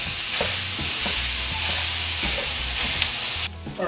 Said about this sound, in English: You're gonna get your sausage broken up really good. We're just gonna toss it up and let it cook for a few minutes.